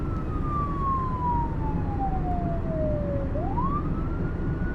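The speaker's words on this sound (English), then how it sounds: "Sirens roared across the city as police gave close chase" A police car siren wails during a city chase, one long falling tone that sweeps back up, loud and steady over constant traffic rumble.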